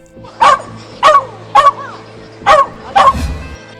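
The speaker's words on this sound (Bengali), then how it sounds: "কুকুর যখন ঘেউ ঘেউ করবে" A dog barks five times in a steady, evenly spaced series, loud and close, each bark short and sharp, with a faint low rumble toward the end.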